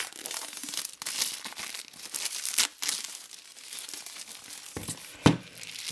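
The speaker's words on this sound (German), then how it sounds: "als erstes entfernen wir natürlich die Folie." Plastic shrink-wrap foil is pulled off a CD deluxe edition box set, close crinkling and tearing in uneven bursts with a few sharper rips and crackles.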